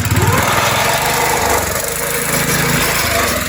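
A landscape bed edger's engine runs steadily and loud up close, a continuous motor drone with a rough, buzzing mechanical texture and no voices.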